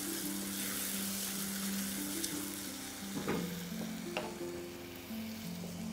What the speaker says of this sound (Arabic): هلا البصل وفص الثوم والفلفل برضو عم يتحمروا مع الكفتة